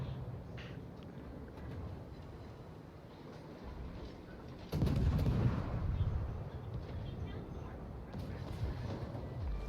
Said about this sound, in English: just going to keep shooting